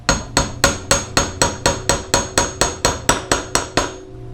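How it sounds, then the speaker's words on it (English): A socket is tapped with a hammer to drive a new fork seal into the fork of a 2014 Yamaha TTR 125 motorcycle. About fifteen sharp, evenly spaced metallic knocks sound close and clear, with a brief ring after the last one. "I'm going to use a socket that is similar size and tap it in"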